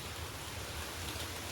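Steady rain falling over an outdoor area, a dense, faint, even wash of hissing noise with no voices or distinct events.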